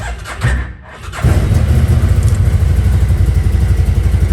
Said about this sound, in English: I'm going to go ahead and crank up the engine.